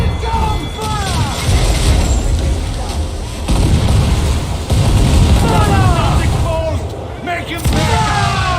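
Ship cannons fire in a naval battle in Assassin's Creed 4, a run of loud booming blasts repeating through the clip under shouted crew voices and battle noise.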